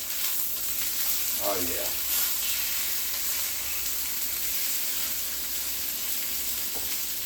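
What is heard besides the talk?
chicken frying in a pan for chicken Francese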